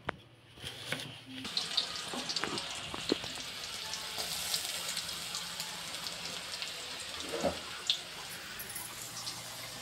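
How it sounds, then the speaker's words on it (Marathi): Rice frying in a pan in a home kitchen, a steady soft sizzle with occasional clatters and clinks, fairly quiet, with no voices over it. "भात फ्राय."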